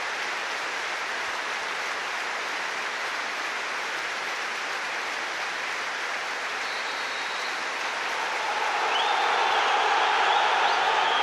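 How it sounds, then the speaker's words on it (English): A stadium crowd at a Premier League match between Bolton Wanderers and Everton gives a sustained, dense tribute ovation, a continuous wash of applause that swells louder near the end. "A tremendous ovation to mark 3 tragic events."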